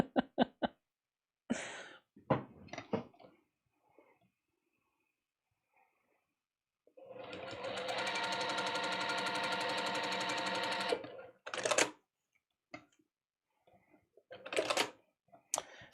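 A sewing machine stitches a quilt block in one steady four-second burst of rapid mechanical whirring and clatter, with scattered clicks, handling knocks and short voice bits before and after.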